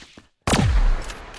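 A laser gun firing in a video game: after a brief silence, one loud shot with a sharply falling zap tone that decays over about half a second, heard alone.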